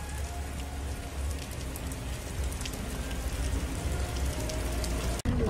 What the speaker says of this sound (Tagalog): Umuulan dyan.